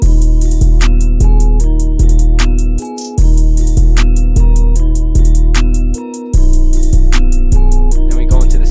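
FL Studio beat playing its main melody over steady punchy drums and deep bass, loud and dense, with two short dropouts before the pattern resumes.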